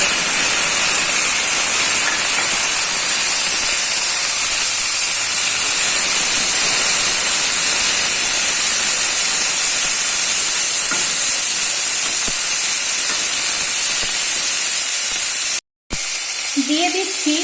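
Karamcha fruit dropped into hot mustard oil tempered with dried red chillies for a pickle, giving a loud, steady hissing sizzle that runs unbroken and close, with a brief cut-out near the end.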